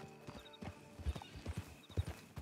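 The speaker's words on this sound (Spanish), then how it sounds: "No es mi caballo." Horse hooves clip-clop in a steady trotting rhythm with an occasional whinny from a mount in the Red Dead video game, close and clear, with faint talk underneath.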